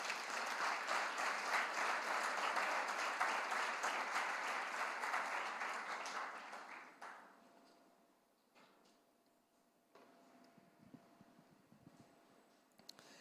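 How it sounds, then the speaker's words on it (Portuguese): A church congregation applauds during a celebration service, a broad wave of clapping that holds loud for several seconds, then fades to near quiet with a few scattered sounds. "Dê uma salva de palmas a esse Deus maravilhoso."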